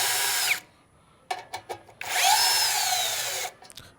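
A MASARU SCDI-1 cordless three-mode impact driver, fitted as a drill, bores into material with two loud sustained whirring bursts separated by a pause and a few short clicks and knocks.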